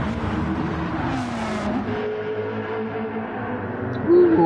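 Racing video game audio with a Jaguar race car spinning out: a steady, loud engine drone with a rising tone and a sharp tire squeal near the end.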